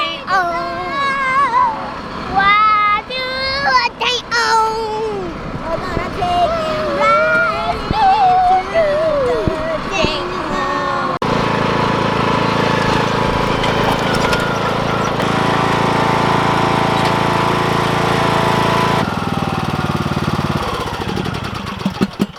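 A small lawn tractor engine runs steadily and fairly loud, droning for about ten seconds after a stretch of brief talk and noise.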